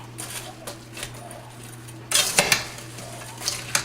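Vegetables tossed with crushed red pepper flakes for a baked vegetable dish, with utensils scraping and clinking against a bowl in short bursts over a faint steady hum.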